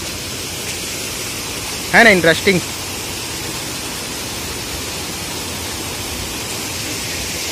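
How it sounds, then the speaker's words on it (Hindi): Continuous rushing noise of a three-stream waterfall on Bailadila Hill fills the whole stretch, steady and close, with a short burst of speech near the start. "देखिए ऐसा लग रहा है 3 झरना अलग अलग निकल रहा"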